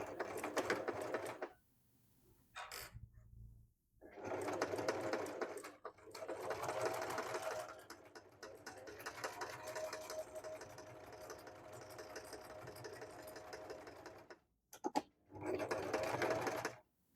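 A Singer M3335 home sewing machine runs straight stitches in several bursts, a close, steady mechanical whir broken by short pauses.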